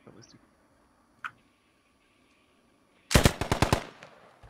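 A loud, rapid burst of G3 rifle fire in the game Squad, six or seven sharp cracks in quick succession, preceded by quiet ambience with a faint click and a brief earlier noise.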